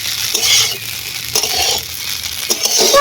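Hot oil spatters in a pan with curry leaves, a loud, close hiss that swells and pops in uneven bursts alongside light clinks of a utensil.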